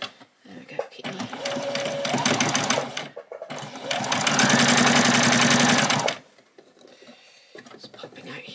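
A sewing machine back stitches and then runs along a small seam on a doll's dress, in two close, steady bursts with a pause between, the second longer and louder, with faint talk around it.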